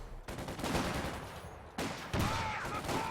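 Sustained automatic gunfire from a Vickers machine gun in the World War II strategy game Company of Heroes 2, rapid bursts running nearly continuously for about three seconds with brief breaks, loud and close.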